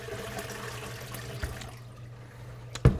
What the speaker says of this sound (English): Here we're going to dump the fresh water out of the cucumbers, which have been soaking in kosher salt.